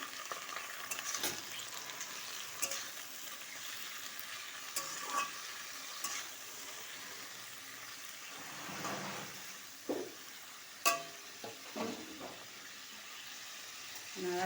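Bottle gourd greens seasoned with salt and a little turmeric fry in a pan while a utensil stirs them, giving steady sizzling broken by several sharp scraping strokes, close and moderately quiet, with no talk.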